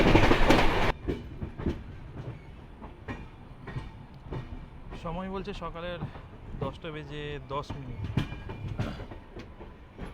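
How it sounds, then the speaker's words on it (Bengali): Akal Takht Express rolls into Asansol Junction with steady rumble and wheel clatter, while horn-like tonal bursts sound midway and a voice talks over it. "ট্রেন অ্যারাইভ করছে আসানসোল জাংশনে।"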